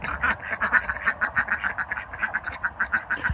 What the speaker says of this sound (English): Ducks have got all new water.